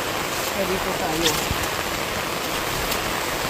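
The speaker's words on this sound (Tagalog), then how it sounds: "Sobrang lamig, napakalakas ng ulan." Heavy, cold rain falls at night in the mountains, a steady dense hiss of drops on surfaces, moderately loud, with faint voices in the background.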